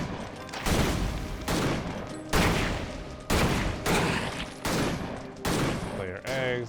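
Shotgun blasts in the action RPG Victor Vran boom loudly and close in a steady rhythm, about eight heavy shots each followed by a short decay.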